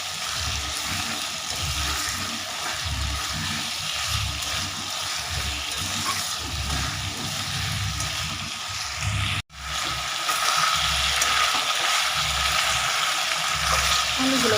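Potatoes frying with spices in a pan sizzle loudly and continuously, with low stirring rumbles beneath and a brief cut in the sound partway through.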